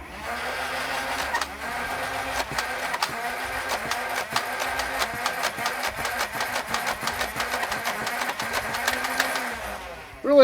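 An X-Shot Insanity Clip Mania toy blaster spins its flywheels up to full revs, a close, steady mechanical whir with rapid clicking ticks that holds for several seconds and ends in a sharp burst.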